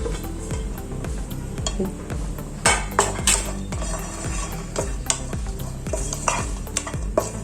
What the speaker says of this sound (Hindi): अब मैं यहाँ पे जो नारियल बाजार में सूखा मिलता है उसको रोस्ट कर रही हूँ।